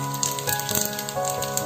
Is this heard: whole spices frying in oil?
yes